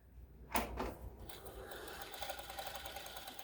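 A Sewtech SW-6800 industrial overlocker with auto foot lift and auto cut runs in a smooth, quiet, rapid hum after a brief mechanical clack at the start, close and steady throughout.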